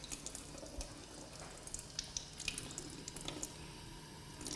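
Tap water running into a kitchen sink from a whole-house chlorine-filtered supply while produce is rinsed, a steady soft splashing stream with small drips and squishy handling, fairly quiet and close.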